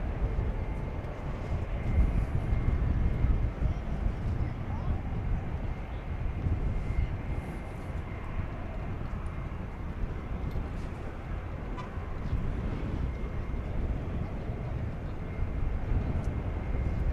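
An American Airlines heavy jet departing from DFW Airport, a broad, steady roar of jet engines rumbling on throughout, moderately loud at a distance, with no voices.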